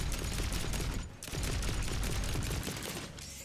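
A plasma carbine firing in a roguelite first-person shooter game, rapid dense volleys of shots that break off briefly near the one-second mark before resuming, loud and close.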